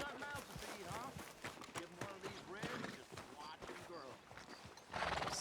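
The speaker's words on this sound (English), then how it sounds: "That might be a horse we need." Tennessee Walker horse hooves in Red Dead Redemption 2 at nightfall, a run of rhythmic clip-clopping hoofbeats under someone talking, with a brighter burst near the end.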